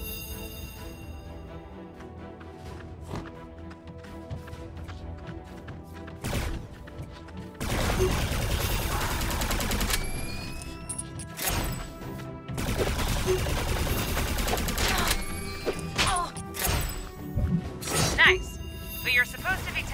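Weapon fire in the video game Alienation comes in sharp cracking bursts and sustained rattling volleys, starting sparse and growing dense and loud, mixed with game effects.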